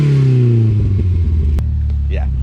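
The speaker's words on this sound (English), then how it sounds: "The exhaust sounds absolutely phenomenal." A car with a small 4-cylinder engine revs up and eases off through its exhaust, close and loud. A deep throaty rumble sweeps in pitch, then settles into a steady idle burble.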